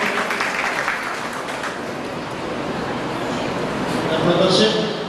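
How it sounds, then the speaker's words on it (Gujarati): Applause from an assembled audience at a cheque presentation ceremony, a dense, steady wash of clapping that carries through the whole stretch and swells slightly near the end, with voices mixed underneath. "જોરદાર તાળીઓથી વધાવીએ આપણે"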